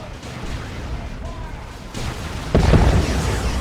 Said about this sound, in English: But that is another creeping barrage thing.